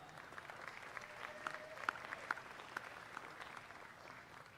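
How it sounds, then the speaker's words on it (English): A crowd at a state fair livestock sale of champions applauds the buyers with a fairly faint, steady wash of clapping heard from a distance, with a few sharper individual claps standing out. "Give them a round of applause as they come up"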